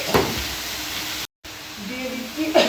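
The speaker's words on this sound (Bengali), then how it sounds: "কড়াইতে আমার পেঁয়াজ রসুন কাঁচা লঙ্কা সব ভালো ভাজা হয়ে গেছে" Onion, garlic and green chili frying in a wok with greens added, a steady soft sizzle and hiss with brief stirring scrapes, broken by a short dropout and a faint voice.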